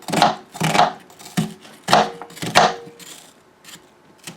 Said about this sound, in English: I'm going to cut it in half again, and then slices